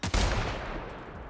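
Gunfire in The Outer Worlds, a sudden loud burst of rapid shots hitting close and hard, then trailing off into a decaying rumble over about a second.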